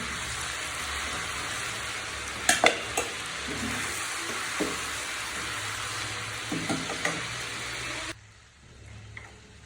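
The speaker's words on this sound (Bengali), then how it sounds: "আমি এই তেলের ভিতরে এখন দিয়ে দিচ্ছি পেঁয়াজ কুচি।" Chopped onion frying in oil in a pan after chicken has been fried for a chicken bhuna, giving a steady broad sizzle with a few stirring clatters, then quieter toward the end.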